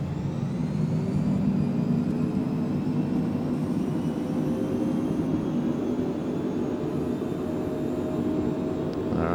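Citation business jet engines on the takeoff roll in a flight simulator, a steady loud whining roar with a slowly rising tone, heard alone without talk.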